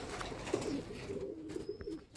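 A pigeon about four months old, a visiting bird at a loft, gives soft low cooing notes close by, with faint background bird chirps and no talking.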